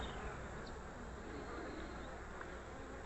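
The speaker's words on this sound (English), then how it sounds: "We got pollen baskets on some bees here coming in" Honey bees buzzing around an open hive frame, with some returning carrying pollen, a continuous soft, diffuse hum with faint individual wingbeat whines flicking past.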